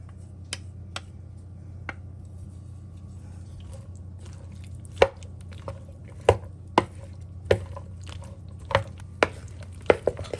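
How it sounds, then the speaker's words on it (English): Sharp, uneven knife chops through bread and butter pickle chips on a cutting board, sparse at first and then quickening, close and crisp over a quiet kitchen background. "I have a few of these bread and butter chips left, so I think I'll chop them up"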